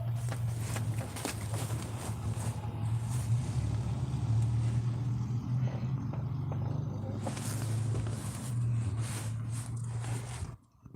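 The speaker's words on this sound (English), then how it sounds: "That was Logan and Shayna driving by." A car rolls past with a continuous low engine hum and road rumble lasting several seconds, fairly loud and close, then cuts off abruptly at the end.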